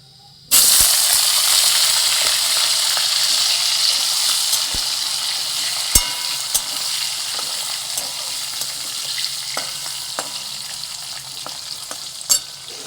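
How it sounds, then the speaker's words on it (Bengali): Cut potatoes dropped into hot oil that already holds tempering spices, bursting into a loud sizzle that settles into a steady fry with occasional spatula knocks and scrapes, no talk. "এবার আমি আলুগুলো দিয়ে দেবো"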